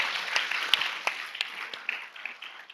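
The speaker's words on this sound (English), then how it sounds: "I would love to have a big round of applause for all of our panelists." Audience applause for conference panelists at a lunch session, heard as scattered, light clapping from a modest crowd, a little distant and fairly sparse.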